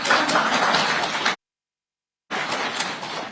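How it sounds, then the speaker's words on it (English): An audience at a Safaricom press announcement in Kenya claps in a dense burst of applause, which cuts to sudden silence and then resumes a moment later. "I thought you would clap."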